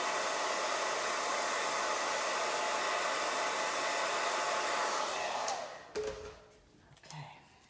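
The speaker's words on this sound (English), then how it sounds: "I'm actually gonna heat set it with the dryer" A hair dryer blows steadily at close range, heat-setting chalk paste on a painted sign, a loud even whoosh that cuts off near the end, leaving brief handling sounds.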